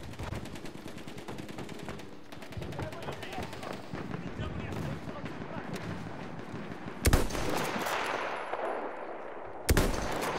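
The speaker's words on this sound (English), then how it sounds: "Trying to shoot the behemoth." Rapid gunfire from a video game, shots aimed up at an enemy airship, crackling in dense bursts through the whole stretch with two sharper loud blasts near the end, while players talk over it.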